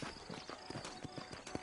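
Horse hooves clip-clop in a quick, uneven rhythm on a dirt street in the Red Dead Redemption video game, faint but distinct, several steps over a short stretch with no voices.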